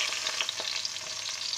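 Marinated aubergines hit hot cooking oil in a pan for an aubergine and potato curry, giving a steady, close, dense sizzle that holds evenly throughout with no talking.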